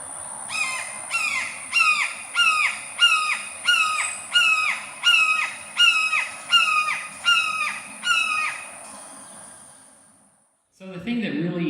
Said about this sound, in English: This is just one call from that bird.